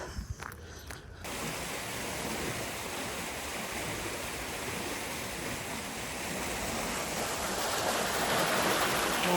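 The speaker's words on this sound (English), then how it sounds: "Water's gently flowing through this lock" Water rushes steadily and continuously through a canal lock, a broad, even flowing roar that begins after a brief quieter moment and grows slightly stronger.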